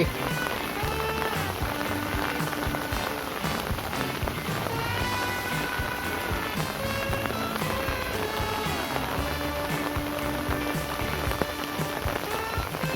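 Heavy rain pouring down steadily on surfaces during a thunderstorm, a dense continuous hiss and patter with no pause throughout.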